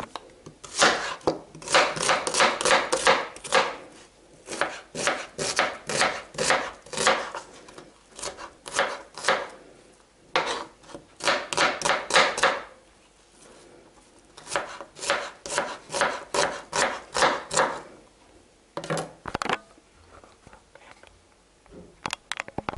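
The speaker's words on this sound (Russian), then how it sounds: "Что я буду первым делом делать, это я порежу луковицу." A knife chops an onion steadily on a board in quick rhythmic runs, close up, with short pauses between bursts of cutting.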